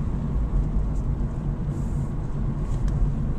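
A manual car's engine downshifts out of third gear with a steady, low rumbling drone from inside the vehicle and no talking.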